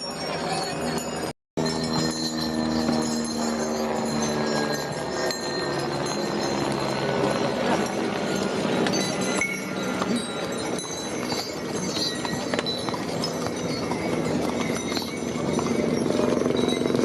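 Horse hooves clip-clopping steadily along the Kedarnath pilgrimage trail on the Chardham Yatra, with bells jingling, a busy crowd and voices throughout, and a brief drop-out near the start.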